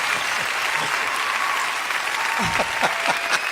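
A porch audience applauds and cheers in a dense, continuous wash of clapping, with a few whoops and voices rising toward the end.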